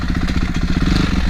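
A dirt bike engine, a Kawasaki KLX230S or Honda CRF450R on a trail ride, chugs loudly up close with a fast, even pulsing beat and mechanical clatter throughout.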